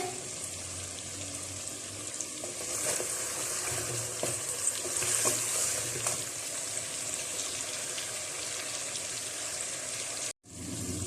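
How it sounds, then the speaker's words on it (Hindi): Steady sizzling as mutton and spices fry in a pot, with occasional stirring scrapes, continuous and fairly close, then a brief sudden dropout near the end. "15 मिनट हो चुके हैं मसालों और गोश्त को भूनते हुए"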